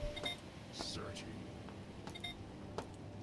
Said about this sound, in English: Hell's that beeping?